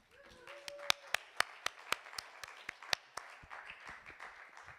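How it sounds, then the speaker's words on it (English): Scattered clapping from a small audience at a drum masterclass, a dozen or so distinct sharp claps in a loose rhythm, fairly quiet and thinning out at the end. "Round of applause."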